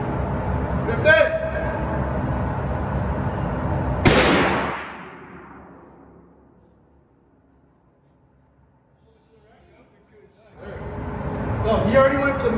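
A single loud gunshot rings out at a shooting range, a sharp blast whose echo decays over about a second. Talk and range noise run before it, then near-silence, then talk resumes.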